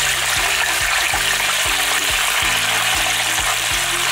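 Tofu fries in hot oil in a wok, a loud continuous sizzle and hiss with a recurring low mechanical hum pattern underneath throughout.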